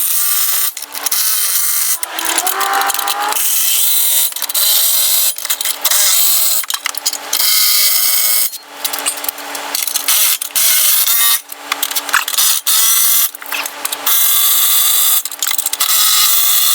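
Impact tool tightening bolts on a GEN-Y Executive 5th wheel king pin box being installed on a Brinkley RV, in repeated loud whirring and hammering bursts separated by brief pauses.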